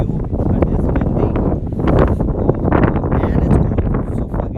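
Strong, gusty wind buffets the microphone in a loud, steady roar at the Atlantic Ocean Road in Norway, a coastal route along the ocean, with rumbling bursts and no speech.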